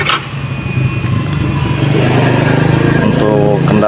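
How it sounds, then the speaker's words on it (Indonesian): The repaired starter motor on a Yamaha Mio Z 125 scooter spinning, a loud close whirring drone that rises and steadies over a few seconds. "jadi starternya atau dinamo starternya sudah hidup kembali ya"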